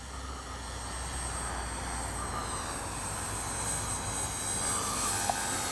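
A Dynam P-61 Black Widow RC plane with gear down and landing flaps out drones steadily on its landing approach, a continuous, fairly loud motor whine over broad wind-like rush that swells slightly near the end.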